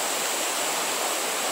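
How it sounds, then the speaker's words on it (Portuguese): Floodwater from an overflowing catchment lagoon pours down a roadside crater toward Lago Azul in Nísia Floresta, a loud steady rushing roar with no break, close and continuous. "A lagoa de captação abriu uma cratera enorme, está descendo água, sentido Lago Azul."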